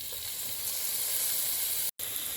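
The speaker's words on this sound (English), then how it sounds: "Next I'm going to add in the tomatoes." Tomatoes hit a hot pan with chilies, curry leaves, ginger and garlic for sundal masala, giving a loud, even, close sizzle that cuts out for an instant near the end, with no voices.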